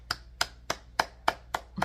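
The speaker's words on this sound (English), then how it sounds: "Clapping for you." A single person claps at a steady rhythm, seven crisp close claps in under two seconds in a quiet room.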